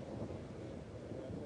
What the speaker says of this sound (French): c'est un orage, hein. Il vient de se former sur place.